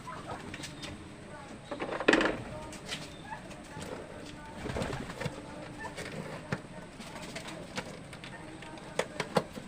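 Pigeons being unboxed from a box, with soft cooing and scattered wing flutters and rustles, plus a louder burst of scuffling near the start, over a steady faint background.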